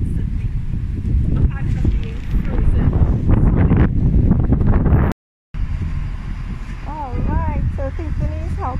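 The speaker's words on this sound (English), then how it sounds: "the wind keeps blowing" Constant wind blows outdoors at a street corner where a mural is being painted, buffeting the microphone with loud, rumbling gusts that continue almost without a break, briefly cutting out, while a person talks over it.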